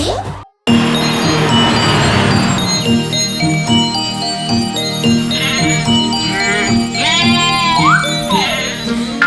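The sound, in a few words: goat bleating with bell in animated rhyme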